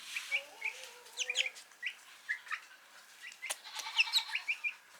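Silkie chickens cluck and chirp in short, scattered calls, fairly close by, with a few soft high peeps mixed in against a quiet background.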